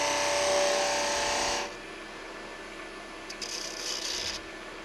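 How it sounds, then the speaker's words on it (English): Sanding an ash nut bowl on a wood lathe makes a steady, hissing rasp that stops abruptly partway through, leaving quieter workshop noise with a brief faint scratching. "I may do just a little bit of sanding"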